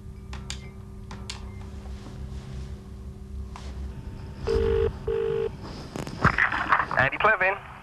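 Telephone call placed to a boss at the Hydro factory: a few clicks and dial tones, then two short beeps of a ringing line before voices begin talking.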